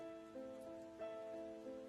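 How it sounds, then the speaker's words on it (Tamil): Steady, soft rain patters evenly throughout a Tamil children's story, with a faint sustained tone humming beneath it; no voices are heard. "சின்னதா ஆரம்பிச்ச மழை பெரிய மழையா ஆச்சு."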